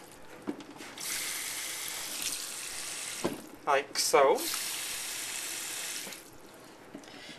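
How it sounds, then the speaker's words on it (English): Water runs from a tap and pours steadily into a baking pan for several seconds, with a couple of short metallic clinks and a brief spoken remark. "Just put this over here and add some water to it."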